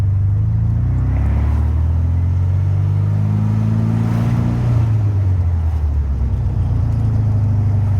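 A 1976 VW Super Beetle with running issues and backfiring, pulling away from a stop: a loud close air-cooled engine rumble that revs up, then drops as it shifts, steady and continuous.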